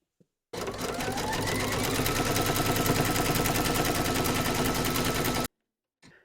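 An embroidery machine stitches background quilting on a mandala glasses case in a fast, loud, continuous mechanical rattle lasting about five seconds, then stops abruptly into silence.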